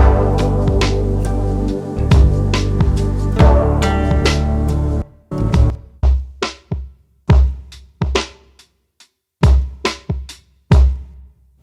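Mixed electronic music track built from Komplete 14 software instruments, opening A section: dense sustained chords and bass with steady beats, then a sparser stretch of punchy staccato hits separated by near-silent gaps, loud and without voices.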